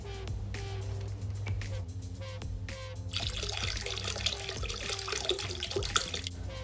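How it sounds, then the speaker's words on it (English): Unfiltered apple cider vinegar poured into a container, a steady close splashing and trickling of liquid that grows fuller and brighter partway through. "First, I'm going to add the apple cider vinegar, unfiltered, so it has pulp in it."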